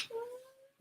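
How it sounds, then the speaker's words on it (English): A baby girl fusses and whimpers as she wakes up, a short wavering cry fading out before a brief louder squeal at the end, heard close by with no talking. "If you can hear my baby in the background, is because she's waking up."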